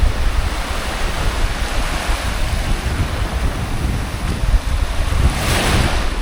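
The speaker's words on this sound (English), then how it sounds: "we've got the open sea here. It's pretty windy as well now." Continuous roar of sea waves mixed with gusting wind buffeting the microphone, loud and unbroken throughout.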